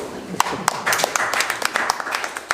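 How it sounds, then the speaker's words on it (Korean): Scattered audience clapping at a lecture event on healthy eating, with a modest number of sharp, irregular claps at moderate volume, with voices in the room. "박수 부탁드립니다."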